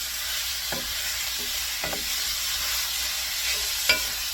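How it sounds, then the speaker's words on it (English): Seasoned ground beef frying in a Stargazer cast iron pan, a steady broad sizzle with a few scraping stirs of the spatula at intervals, close and continuous, no talking. "So I'm putting all of this into the pan and we'll scramble it around."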